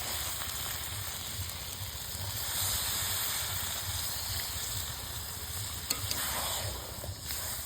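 Fish head and banana stem fry in a pan and give off a soft, steady sizzle and hiss after water is added, quiet and continuous with no talking.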